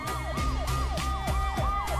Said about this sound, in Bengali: ঠিক সেই সময় পুলিশের গাড়ির সাইরেন শোনা গেল।